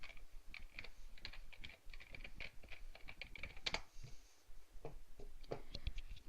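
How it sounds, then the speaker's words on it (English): Quick, uneven keyboard typing, clicking in short bursts with brief pauses, close and fairly quiet. "Typing with one hand."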